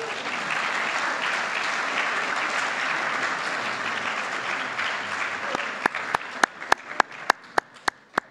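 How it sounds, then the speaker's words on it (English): An audience at a college opening assembly gives a sustained round of crowd applause, which fades into a few sharp, isolated near claps toward the end. "A final round of applause to all of the people who've made it onto the Dean's List."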